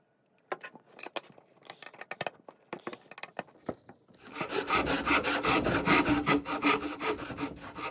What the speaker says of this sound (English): My favorite part is definitely carving the neck.